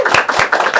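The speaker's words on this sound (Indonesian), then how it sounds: "Tepuk tangannya dong." A few people clap their hands in a short, quick burst of close, loud claps at the opening of an Indonesian podcast.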